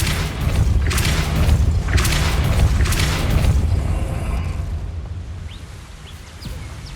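A Depulso spell in Hogwarts Legacy lets out a loud booming force blast, a few heavy thumping pulses that fade into a quieter rumbling tail.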